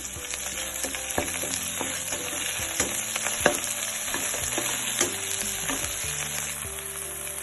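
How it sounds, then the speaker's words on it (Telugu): Mint leaves tossed into a pan of frying onions for gongura egg curry, sizzling steadily and loudly up close, with stirring scrapes and small clicks breaking through the constant crackle. "ఇప్పుడు పుదీనా వేసుకోవాలి."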